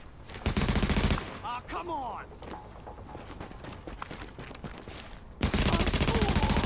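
Rapid automatic gunfire from a shooter game, The Division, erupts in two loud, dense bursts at the start and end, separated by quieter in-game sound and a voice.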